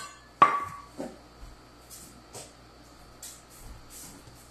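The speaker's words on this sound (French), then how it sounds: "On vient fouetter tout ça." A whisk clinks against a bowl while vanilla and milk are beaten into batter: one sharp metallic knock followed by a series of softer, irregular taps and scrapes.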